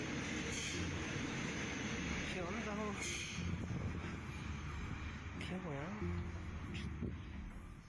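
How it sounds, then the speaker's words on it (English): A train approaching along railway tracks, its deep, steady rumble filling the whole clip beneath voices speaking over it. "According to Ricardo, the ground beneath his feet rumbled as the train came towards him on the tracks"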